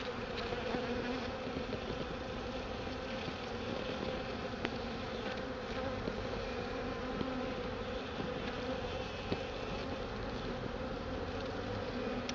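A fresh honeybee swarm buzzes continuously during a removal in College Park, a dense, close, steady drone of many bees with no talking.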